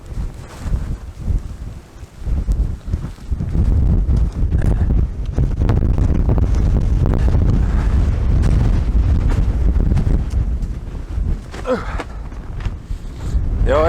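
Strong, steady wind roars and buffets the microphone in a Lapland fell blizzard with zero visibility, a loud continuous rush with gusting rumble throughout.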